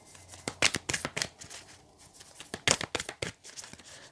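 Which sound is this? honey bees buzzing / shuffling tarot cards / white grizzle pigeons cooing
shuffling tarot cards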